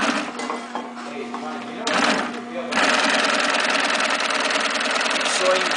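A Singer sewing machine, custom by Hoffman model 144-1305, runs with a steady, close mechanical whir and rapid stitching rattle, starting and stopping before settling into a continuous hum.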